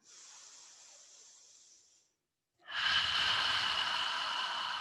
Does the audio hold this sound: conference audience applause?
no